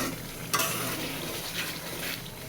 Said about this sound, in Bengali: মশলা কষানো হয়ে গেছে, সুন্দর উপরে